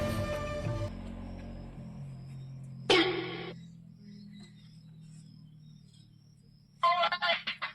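Two short buzzy ringing tones sound a few seconds apart over a low steady hum, like a phone ringing on the other end of a call.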